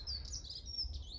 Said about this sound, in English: also got a dunnock singing just there.